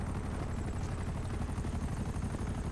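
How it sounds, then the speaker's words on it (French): Helicopter in GTA V Online during the Marina de Puerto del Sol mission, its rotor and engine drone loud and steady, a dense close roar filling the whole moment without pause. "Vous l'avez dit, on a un hélicoptère."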